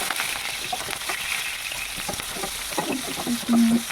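Oil frying in a pan for an Assamese bagena fish recipe, a steady close sizzle and crackle with scattered pops and a few stirring clatters near the end.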